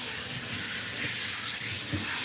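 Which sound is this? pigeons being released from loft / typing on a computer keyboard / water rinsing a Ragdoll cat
water rinsing a Ragdoll cat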